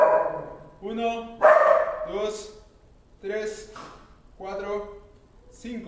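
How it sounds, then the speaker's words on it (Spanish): A dog barks several times during a children's badminton exercise routine, short sharp barks mixed in with a person counting aloud nearby. "Escucha que ladra como todo un Rottweiler"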